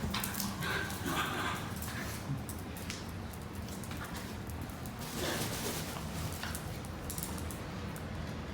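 Basenji dogs romp and play indoors, with soft scuffling, pattering paws and occasional small whimpers and yips at low volume, fairly close but quiet throughout.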